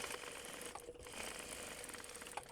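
A sewing machine stitches a bag seam just inside a marked line, giving a faint, continuous rapid whirr with no talk over it.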